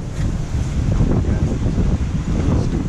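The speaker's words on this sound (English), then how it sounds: "Oh, it's a little windy and rainy." Strong wind buffets the microphone in a constant loud rush, with a steady wash of noise that could be rain.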